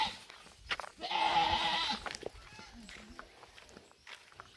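A goat on a Philippine farm gives a loud, sustained bleat lasting about a second, among other livestock. Softer rustles and faint voices follow.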